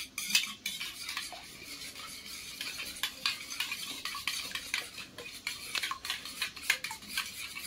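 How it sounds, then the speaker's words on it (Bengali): Spoon stirring and beating eggs with salt and turmeric in a small bowl, a steady run of clinking taps and scraping against the bowl's sides, close and fairly quiet, with no voices. "এই চামচ দিয়ে ভালোভাবে ফেটে নেব"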